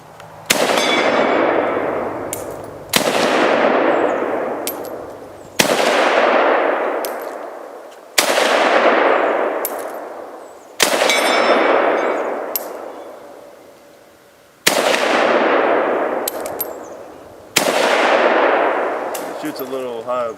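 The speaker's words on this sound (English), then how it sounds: "And I'm going to take a few shots with it first." Seven loud rifle shots from an AK-47 fired one at a time, each a sharp crack with a long ringing decay, spaced roughly every two to three seconds outdoors.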